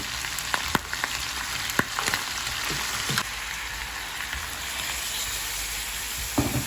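Chopped onion and pork sizzle together in a hot pan, a dense continuous fry with sharp pops and spatters scattered over the top, close and fairly loud with no voices.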